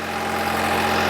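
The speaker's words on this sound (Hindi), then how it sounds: "बेसबार कंपनी का 8 फुट का रोटावेटर है, new Holland 3630 super plus tractor है" A New Holland 3630 Super Plus tractor engine runs steady and loud, pulling an 8-foot rotavator, with a constant low drone.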